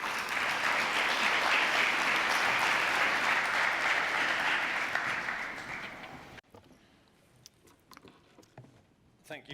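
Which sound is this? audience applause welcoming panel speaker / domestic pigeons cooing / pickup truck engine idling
audience applause welcoming panel speaker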